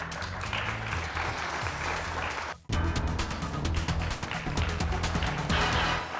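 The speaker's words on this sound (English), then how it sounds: "You're getting all those applause, and we still have 3 rounds of game to play." Studio audience applause on a televised team game show, loud dense clapping that runs steadily, breaks off sharply for a moment midway, then resumes at full strength.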